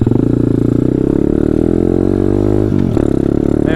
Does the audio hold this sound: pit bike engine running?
yes